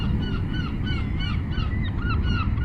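Gull-like cries repeat several times at a beach, shrill calls riding over a constant roar of wind and surf, steady and fairly loud ambience with no voices.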